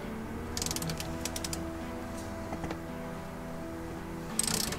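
A ratchet clicks in short quick runs and single ticks while tightening the bolts of a steering wheel puller on a 1955 Ford truck, close and fairly quiet against a steady hum.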